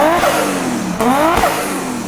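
A Toyota Chaser engine revs up and down several times in quick succession, the pitch sweeping with each blip, close and loud.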